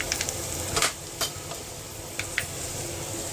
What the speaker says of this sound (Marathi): कड़ी पत्ता मस्त खिचडी भातला तडका देत